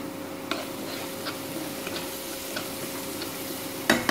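Spices stirred and frying with salt and turmeric in a pan, a steady soft sizzle broken by a few light clicks of a spoon and a louder scrape near the end, close by and with no talking.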